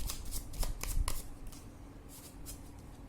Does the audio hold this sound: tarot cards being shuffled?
yes